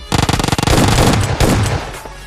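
Loud rapid automatic gunfire from an S12K in a PUBG Lite match, a fast burst of close shots followed by a sustained roar of fire and echoing reports.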